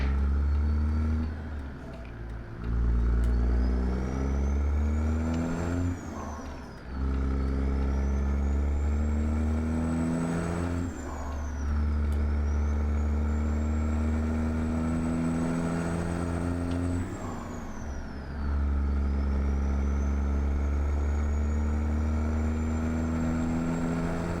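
A Peterbilt 379 truck engine pulling a B-double in the video game American Truck Simulator, a loud droning rumble that rises through the gears with repeated shifts and pauses.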